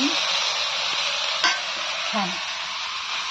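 Leafy greens frying and being stirred in a pan with no oil, a steady broad hiss with a couple of soft scraping touches, close and moderately loud.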